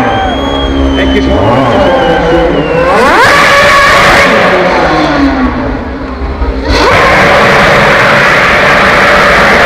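McLaren Mercedes Formula 1 car revving and accelerating through city streets, a loud, high-pitched engine scream rising and falling through gear changes, heard close with crowd noise and a commentator talking over it.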